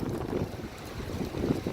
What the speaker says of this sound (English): I apologise about the wind again.